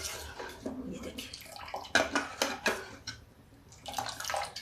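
Warm water is poured into barley dosa batter, giving irregular splashing and sloshing bursts at moderate closeness, with brief pauses between pours and no speech.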